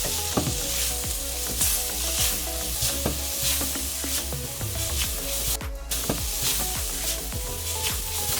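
Spoonfuls of cumin and other spices are stirred into a sizzling pan of lentil filling for a South African cottage pie, with repeated scraping strokes over a steady close fry and no talk.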